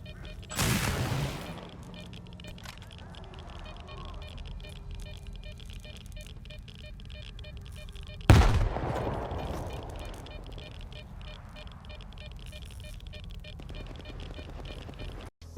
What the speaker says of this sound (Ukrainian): ви зможете пострілами збити зброю на землю та забрати собі